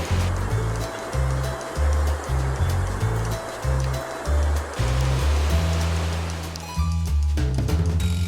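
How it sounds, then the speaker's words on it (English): Water rushes through opened canal lock gates on the Mohawk River, a broad steady roar of churning flow heard close, with rhythmic low thumping beneath it. "they lower the water down by opening up the gates right here"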